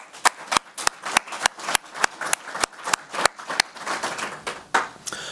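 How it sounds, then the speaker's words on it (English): Audience applause at a medical thermology talk on RSD and CRPS in Charlotte, NC: a burst of claps, sharp and irregular, fading into a looser patter near the end, with no talking. "I think they deserve a round of applause."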